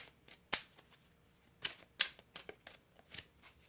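A deck of tarot cards is shuffled up close, with quick papery riffles and snaps coming in short irregular bursts against a quiet background.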